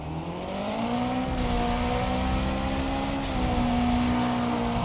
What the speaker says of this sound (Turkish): Araba seslerine bakacağım hemen